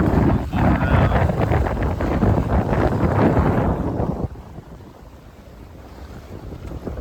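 Strong wind roars and buffets across a heeled sailboat under full sail, with rushing water and hull noise, loud and steady, then easing to a quieter hiss near the end.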